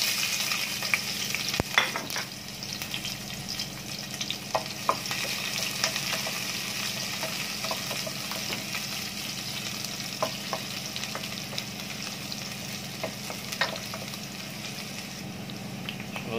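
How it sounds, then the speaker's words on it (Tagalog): Garlic and onion sauté in a hot pan for vegetable spring rolls, giving a continuous close sizzle under steady stirring and scraping with scattered spatula taps throughout, with no talking. "Umagis na po natin ang ating bawang at sibuyas."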